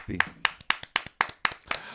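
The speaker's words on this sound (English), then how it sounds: "So let's clap for B." Close, distinct hand claps land in a steady rhythm, about eight sharp claps at even intervals, in a morning-show studio with no voices between them.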